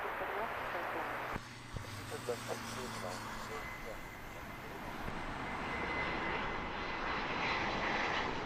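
A Swiss airliner comes in to land at Heathrow, its engines a steady distant roar that builds gradually, with faint clicks and outdoor background noise.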